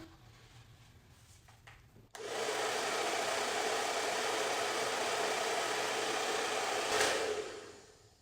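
Hair dryer with a diffuser attachment running on low heat and low speed: a quiet click, then a steady even whoosh starts and holds for several seconds before tapering off, with no speech.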